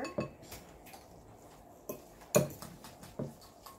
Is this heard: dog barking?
no